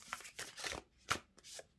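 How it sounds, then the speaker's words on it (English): Tarot cards from a Tarot of Mystical Moments deck are shuffled by hand in several short riffling bursts, close and fairly quiet, with brief pauses between them and no talk. "All these cards are difficult to shuffle."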